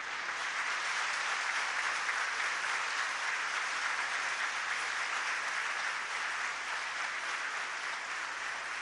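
A church assembly at a Methodist Protestant investiture in Benin applauds in a sustained ovation, dense steady clapping filling the room at an even level throughout with no break.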